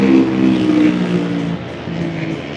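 A flat track racing motorbike in a 2024 Georgian race roars steadily at close range, a continuous throaty engine drone that swells and eases slightly without any talking.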